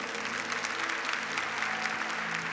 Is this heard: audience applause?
yes